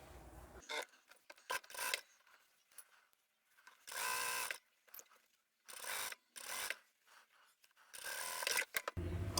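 A sewing machine stitches the fabric edges of a lanyard in short bursts of whirring, buzzing stitching, separated by near-silent pauses and small handling noises, close and quiet.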